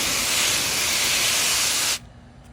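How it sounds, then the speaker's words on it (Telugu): A strong stream of tap water hisses steadily while fresh, tender amaranth leaves from a home garden are washed, then cuts off abruptly, leaving near silence. "ఇప్పుడు ఇది ఆకంతా ఇక్కడే కడిగేస్తాను అన్నమాట."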